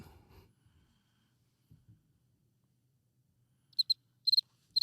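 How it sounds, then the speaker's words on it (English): Crickets chirping as a sound effect, short high trilling bursts in quick pairs and clusters near the end, following near silence and a few faint low rustles. "it's gonna be a lot of crickets"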